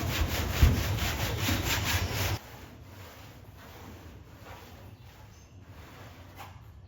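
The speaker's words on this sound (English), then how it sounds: "So I'm going to use that with one of these Rag Company Ultra Decontamination Sponges." A Rag Company Ultra Decontamination Sponge is worked over a car surface lubricated with Nano Magic clay lube, giving a loud, rapid back-and-forth scrubbing for about two seconds before it drops to a quieter, steadier rubbing.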